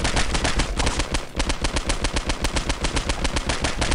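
Rapid automatic gunfire in the video game Postal 2, a loud, sustained burst of fast evenly spaced shots with a brief pause partway through, close and alone without voices.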